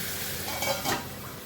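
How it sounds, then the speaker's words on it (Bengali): Ground spices frying in oil in a home kitchen pan while an egg dish is cooked, giving a steady close sizzle with light stirring. "এবার মশলাটা ভাজা হবে"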